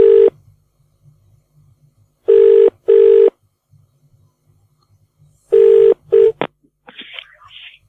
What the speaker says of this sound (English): Bonzi, see if I can get him back on the phone.